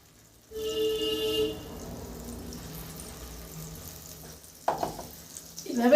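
Potato and rice pakoras deep frying in oil, a moderate bubbling sizzle with a brief tonal whine early on, then clatter and handling noises toward the end.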